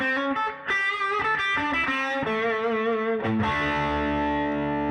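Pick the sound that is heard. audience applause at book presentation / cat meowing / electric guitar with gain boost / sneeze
electric guitar with gain boost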